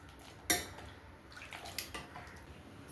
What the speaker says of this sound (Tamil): முருங்கைக்காய் முழுகிற வரைக்கும் தண்ணி சேர்த்துக்கலாம்